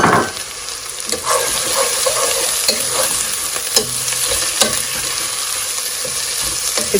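Chopped ginger and garlic frying in hot oil for kala bhuna, a steady close sizzle with scattered clicks and scrapes of a spoon stirring the pan.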